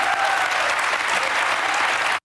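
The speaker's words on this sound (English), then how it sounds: "her own crowd sees through her on this and starts to applaud for you" Studio audience on a daytime talk show breaking into loud, sustained applause, a dense wash of clapping that holds steady for about two seconds and then cuts off abruptly.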